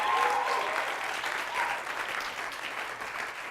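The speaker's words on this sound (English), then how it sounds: "can we have a round of applause to Big Rock for supplying the beer?" An audience applauds steadily for a beer sponsor during a live intro monologue, dense clapping filling the whole stretch at an even, moderately loud level with no break.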